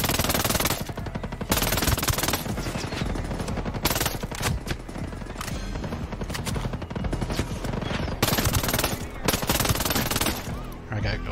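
Sustained automatic gunfire rattles almost without pause through a Terminator event in the co-op mode of Ghost Recon Breakpoint, loud and dense, in long rapid bursts with brief gaps and a voice speaking now and then.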